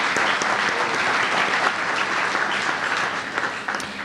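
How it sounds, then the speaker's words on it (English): Steady applause from a lecture audience runs throughout, dense and sustained clapping filling the room at an even loudness with no voices rising above it. "If we could give a round of applause for Country Hills Eye Center for sponsoring this."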